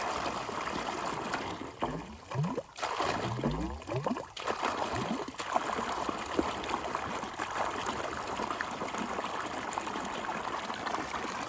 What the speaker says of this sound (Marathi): चला पाणी भरून घेतोय आता.